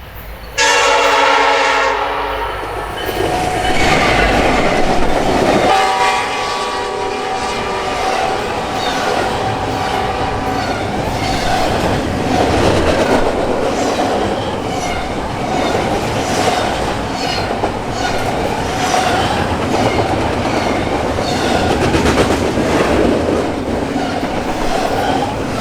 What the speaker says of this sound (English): to get a close-up shot of the train racing by